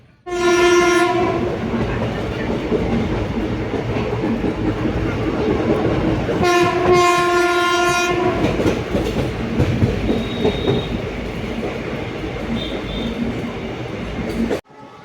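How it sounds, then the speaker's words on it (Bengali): The Gour Express runs at speed with no stops, heard from on board as a loud, continuous rumble and clatter, with two long horn blasts at the start and midway and faint squeals later. "মাঝখানে আর কোনো স্টপেজ নেই গৌড় এক্সপ্রেসের, আর ট্রেনটা বেশ গতিতে চলে।"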